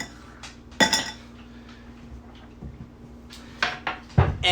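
Ice cubes clatter into a cocktail stirring glass while a Manhattan is being made, a few sharp clinks and knocks in separate bursts with quiet gaps between them.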